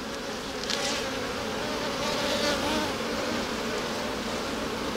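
A close, continuous hum of many honey bees crawling over a brood frame in a hive, steady and even throughout with no voices.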